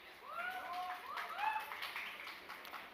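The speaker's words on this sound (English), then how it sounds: "Claps must continue, please." An audience at a graduation convocation claps steadily, a soft, continuous patter heard from a distance. A voice speaks briefly over it.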